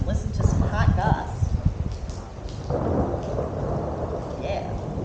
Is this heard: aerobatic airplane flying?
no